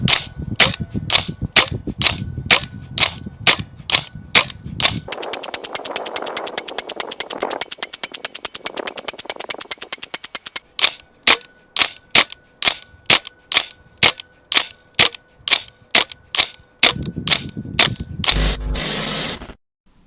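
A Vipertech HK416 gas blowback airsoft rifle fires loud, sharp shots nearby. A steady string of single shots leads into a fast, rattling run, then spaced single shots resume, ending in a brief mechanical clatter.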